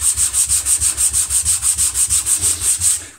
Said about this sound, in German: Hier ist der Schleifblock von Veritas.